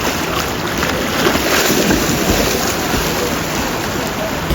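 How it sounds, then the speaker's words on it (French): Water splashes and churns loudly in a swimming pool, a dense continuous wash of noise close by without clear breaks. "Enlève-toi parce que sinon je vais t'éclabousser"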